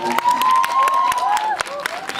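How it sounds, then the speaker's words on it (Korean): Cinema audience applause and cheering at a film screening talk, steady and fairly loud throughout, with a sustained tone running underneath. "박수 한번 쳐주세요."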